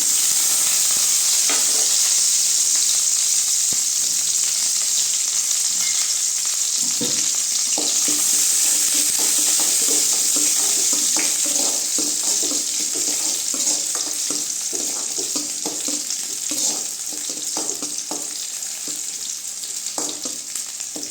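Onions and curry leaves sauté in hot oil in a pan for a radish kulambu, a loud continuous close sizzle with intermittent scraping stirs.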